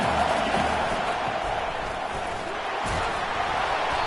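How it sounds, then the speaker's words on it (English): A home crowd cheering at a college football game as the defense tries to get off the field on third down, a dense roar of distant voices filling the stadium under a play-by-play announcer's commentary. "Here comes his home crowd as the defense tries to get off the field on third down."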